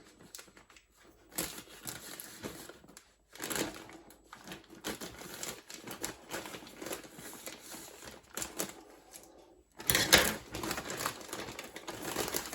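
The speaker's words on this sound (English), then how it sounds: "I'm sorry it's noisy, I bet, with these bags" Plastic bags crinkle and rustle in irregular bursts, close by, with brief quiet gaps and a louder crunching flurry near the end.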